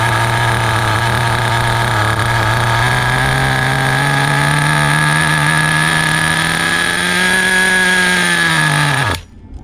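A nitro-powered HPI RS4 RC car engine idles low and steady, its buzzing note swelling slightly before it sags and cuts out abruptly as the fuel line is pinched.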